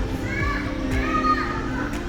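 Children playing in a kids' activity corner at Sea Life Bangkok aquarium, their voices mingling in a steady indoor murmur with bright shrieks and calls rising over the hum of a crowd.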